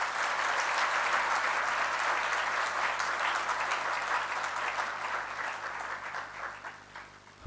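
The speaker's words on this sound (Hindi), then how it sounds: "अंतःकरणपूर्वक ताली बजाकर स्वागत करते हैं." An audience applauds to welcome a speaker at a youth camp gathering in Ahmedabad, dense sustained clapping from a large crowd that slowly thins and fades toward the end.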